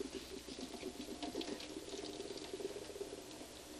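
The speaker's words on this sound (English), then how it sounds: "I'm going to go to the sink and pour this into a colander." Pasta cooking water splashes and patters steadily into a colander in a kitchen sink, a faint, continuous wet rushing with no voices.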